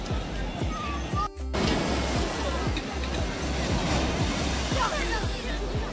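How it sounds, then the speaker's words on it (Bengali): Sea waves breaking and washing up on the sand at Old Digha beach, a loud continuous surf roar with rolling surges and wind buffeting the microphone. "ঢেউ আসছে, দেখো কি মারাত্মক।"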